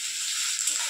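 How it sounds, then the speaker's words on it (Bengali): Onion, ginger and garlic fry in a pan, a steady, close, unbroken sizzle that holds an even level throughout. "এই যে পেঁয়াজ আদা রসুন এগুলো আমার সব ভাজা ভাজার মতো হয়ে গিয়েছে"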